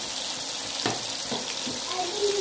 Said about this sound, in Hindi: अब मैं इसको अच्छे तरीके से भून लूँगी